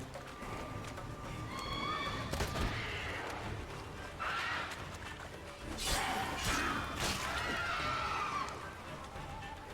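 Roach, Geralt's horse in The Witcher 3 on Skellige, lets out several loud whinnies over clopping hooves and clattering impacts, close and busy throughout, with game sound effects around it.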